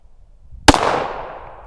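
Single loud shot from a 1911 pistol, a sharp close crack after a quiet moment, followed by a reverberating tail that fades over about a second.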